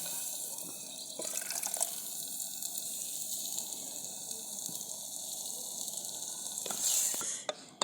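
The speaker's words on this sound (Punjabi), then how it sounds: "ਹੁਣ ਆਪਾਂ ਥੋੜਾ ਜਿਹਾ ਪਾਣੀ ਪਾਵਾਂਗੇ" Water poured into a cooking pot with spices for dum aloo runs and splashes steadily for several seconds, a soft continuous pour with a brief louder gush near the end, no voices.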